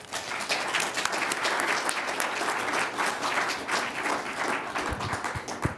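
An audience at a talk on the Canadian motor carrier industry applauds to welcome speaker David Bradley, with sustained, even clapping from many hands for several seconds.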